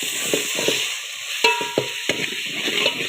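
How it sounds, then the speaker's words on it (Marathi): A spoon stirs dry mutton masala frying in a little oil, making repeated scraping strokes against the pan over a steady close sizzle, about five or six distinct stirs. "आता घेते ही हलवून"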